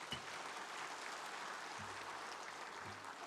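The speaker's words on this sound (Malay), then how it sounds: "Kita berikan tepukan pada PM sendiri." An audience at a UMNO party presidential speech applauds the prime minister with steady, fairly distant clapping that fills the hall evenly and quietly throughout, with a few low thumps.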